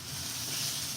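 Breakfast sausage sizzles in an air fryer, a soft continuous hiss of hot fat, steady and fairly quiet throughout, with no talk.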